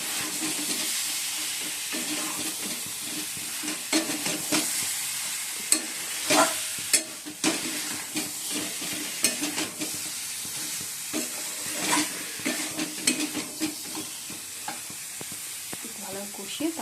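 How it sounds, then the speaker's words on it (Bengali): Potatoes frying in a spiced masala that has already released its oil, a continuous close sizzle broken by irregular scraping and stirring strokes, at moderate volume with no talking. "এবার আলুগুলো দিয়ে দিচ্ছি"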